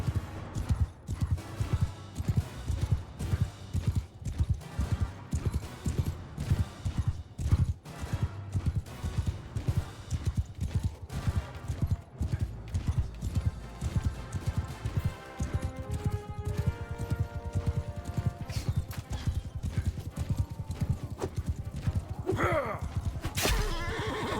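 Horses in the Bannerlord battle game gallop with a continuous rapid clip-clop of many hooves, joined by repeated neighs and whinnies, loud and close.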